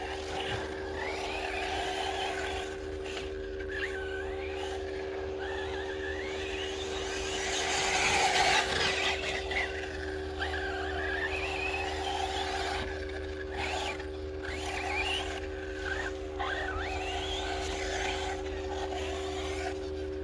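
A Team Corally Python 1/8-scale off-road RC buggy on a 4S battery whines steadily as it accelerates around a dirt track, with rising and falling electric motor pitch sweeps and a louder pass near the middle, no voices.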